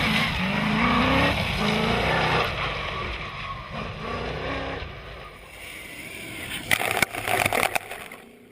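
Peugeot rally car on the Sweet Lamb stage of an AWDC Safari Championship round, its engine rising then fading, with wind buffeting the microphone and sharp clatter near the end.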